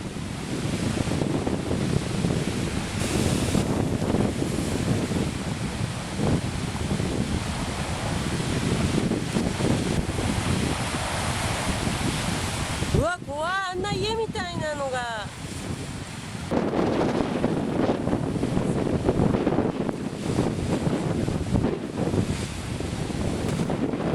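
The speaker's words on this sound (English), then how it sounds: "Typhoon Samba brings relentless waves, each one rising and crashing with force" Typhoon waves surge and crash against a seawall on a southern island, with a continuous loud roar of surf and wind buffeting the microphone, briefly broken by a short cut with a different sound midway.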